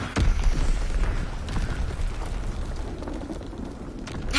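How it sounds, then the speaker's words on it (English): Enemy mortar rounds burst in a WW2 shooter video game: heavy rumbling explosions with a sharp impact early on, followed by sustained booming and crackling that continue throughout. "Enemy mortar fire incoming."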